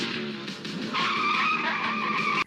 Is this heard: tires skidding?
yes